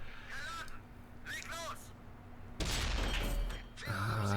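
Tank cannon shots in the World of Tanks console game: a heavy boom hits at mid-clip and a second blast follows near the end, each loud with a rumbling tail, after quieter in-game sounds and a voice talking.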